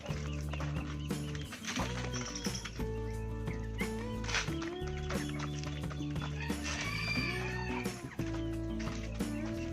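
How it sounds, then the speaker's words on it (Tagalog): Rhode Island Red and native chickens cluck repeatedly with a few rooster-like calls, close by in a backyard coop, the clucking overlapping in an irregular chatter and a faint voice in the background. "So, mga upgraded chicken yung mga nandito sa akin."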